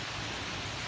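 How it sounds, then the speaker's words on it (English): Heavy rain pours during a thunderstorm with lightning, forming a steady, dense, even hiss that continues unbroken without voices. "You can see the rain falling."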